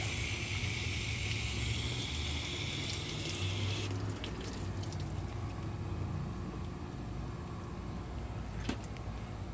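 Water pours steadily onto a large potted Japanese juniper bonsai, a continuous close splashing and trickling that runs for the whole stretch with no talk.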